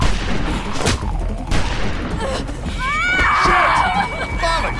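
Gunfire breaks out in a tense zombie-apocalypse scene in Telltale's The Walking Dead, with sharp loud shots and bursts among shouting and screaming voices and chaotic noise.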